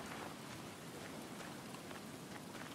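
Rain falls in the survival video game Stranded Deep as a dense, constant patter with scattered droplet ticks, steady throughout and with no speech.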